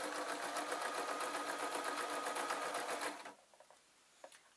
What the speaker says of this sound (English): I'm just going over the other seam now.